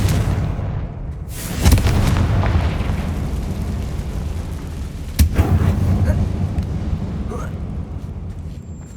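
Bombarda and Confringo spells explode in the Hogwarts Legacy video game, two loud booming blasts a few seconds apart over a dense, rumbling game soundscape, with a voice speaking.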